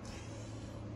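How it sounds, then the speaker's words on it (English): A Honda TRX70 ATV engine at full throttle gives a steady, even motor drone for about a second, close by and moderately loud. "So now we'll get full throttle."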